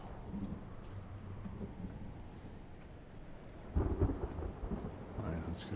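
Thunderstorm with rain in the video game Return to Grace: a steady wash of rain and low rumbling thunder, with a heavier rolling crack near the end, fairly faint and with no talking.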